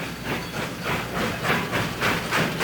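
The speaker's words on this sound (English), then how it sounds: "A Shay engine huffs and puffs as it takes its load of logs down to Yacolt." A Shay steam locomotive hauls a load of logs near Yacolt, Washington, chuffing in a steady rhythmic huff with hissing steam, about four or five beats, moderately loud and close, with no voices.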